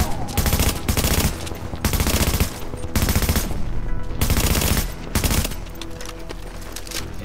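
Bursts of rapid automatic gunfire in an online shooter game, several loud, dense volleys of shots separated by short pauses.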